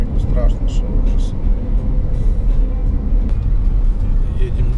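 A car drives along a road with a steady low engine and tyre rumble from inside the cabin, while voices speak faintly under it.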